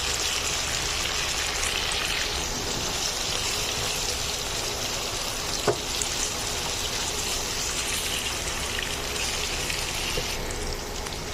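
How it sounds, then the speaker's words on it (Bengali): Beef pieces deep frying in hot oil over a medium flame for a Naga-style beef curry, giving a steady, close, dense sizzle and hiss that runs unbroken throughout, with no voices. "আমি এখন মাংসগুলোকে মিডিয়াম ফ্লেমে একটু ডিপ ফ্রাই করে নেব।"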